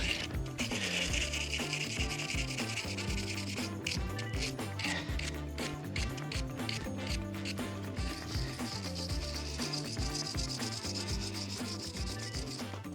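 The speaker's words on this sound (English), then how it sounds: "Stainless steel brush on a stainless steel shaft." A stainless steel wire brush scrubs salt-water calcium build-up off a stainless steel boat propeller shaft, giving a continuous close, rasping scrape with rhythmic back-and-forth strokes.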